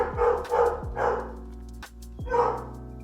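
A dog barks in short bursts, several sharp barks spaced across the moment, close and fairly loud indoors, with a faint whimpering tone between them and no talking.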